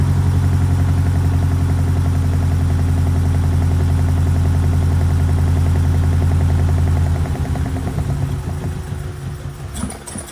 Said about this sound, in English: it's the first time this carburetor setup has ever run